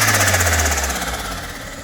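A turbocharger with its blow-off valve blocked off flutters as the engine comes off boost, a loud, fast, rattling chatter of many tiny high-pitched pulses over a low engine drone, gradually fading within two seconds, with no talk.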